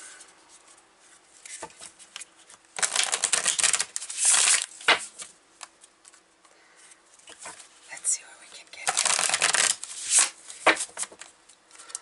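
Tarot cards shuffled by hand in several soft, papery riffling bursts, close and quiet, with a voice talking in between.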